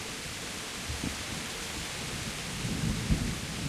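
Steady rain hisses across a medieval village in Kingdom Come: Deliverance, with a low rumble of thunder rolling in the distance and swelling briefly near the end.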